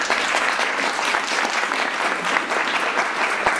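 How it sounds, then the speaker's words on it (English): Hearty applause from an audience at a startup failure conference talk, a steady dense wash of clapping that holds loud and even throughout with no voices over it. "I love that there's hearty applause from men in the audience with that"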